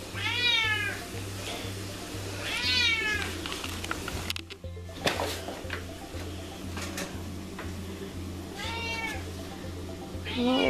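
A house cat meows in several drawn-out bursts, clear and close, at the start, again a little later and near the end, over a steady rhythmic ticking pulse in the room.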